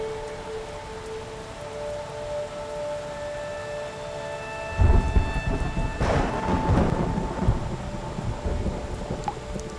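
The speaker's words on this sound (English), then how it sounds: "Singapore's monsoons bring daily rainstorms." A monsoon rainstorm in Singapore: steady rain patters throughout, then a loud, close crack of thunder bursts in midway and rumbles on under the continuing downpour.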